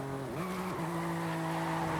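A BMW M3 slides sideways in Forza Horizon 5, its tires squealing in a loud, continuous howl that bends in pitch, over a steady engine drone with no talking.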